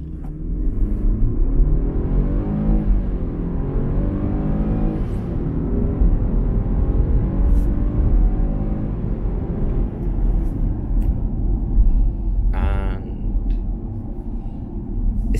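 A Land Rover Defender 110 P300 accelerates at full throttle on a road, heard from inside the cabin. Its engine drones loud and steady for the whole stretch while the pitch rises and falls through the gear changes.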